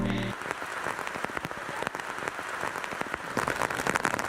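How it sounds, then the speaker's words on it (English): Heavy rain pours down in Nepal's mountains, a dense, continuous patter of drops hitting surfaces nearby that swells louder toward the end. "there was also a lot of rain"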